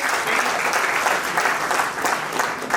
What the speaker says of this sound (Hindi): इसलिए एक बार तीनों चारों के लिए जबरदस्त ताली बजाइए